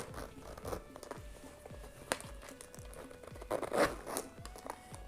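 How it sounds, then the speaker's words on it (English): A zipper on a Saint Laurent Vicky mini bag being pulled closed, a quiet run of fine rapid ticks and small crinkles from the handling, close by and without speech. "The zipper is very smooth, which I love."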